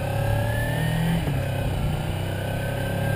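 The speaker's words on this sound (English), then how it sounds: "Oh, it's got that Ninja 250 whine." A 2013 Kawasaki Ninja 300 motorcycle on a test ride gives off a thin, rising engine whine over a steady motor drone, close and continuous for a few seconds with no talking.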